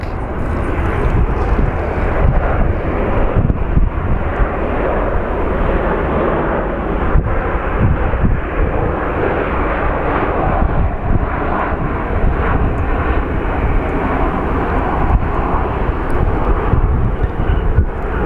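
An airliner comes in to land at Phoenix Sky Harbor airport, its engines a loud, steady broadband roar with rushing wind that holds without a break throughout.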